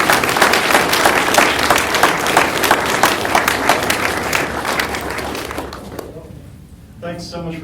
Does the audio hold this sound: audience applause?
yes